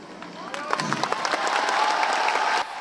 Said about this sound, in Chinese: 全场掌声为这位歌迷加油